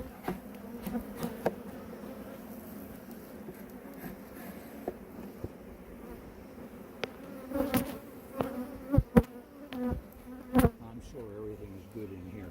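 Honey bees buzz around an open beehive during beekeeping, a soft steady hum close by, with occasional louder passes of single bees near the microphone and brief sounds of handling.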